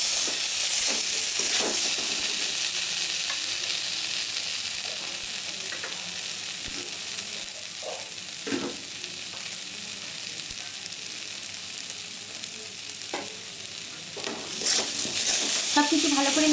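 A date and aamsotto (mango leather) chutney is stirred in a pan, with a steady low sizzle and a spoon scraping and turning the mixture in close, soft strokes.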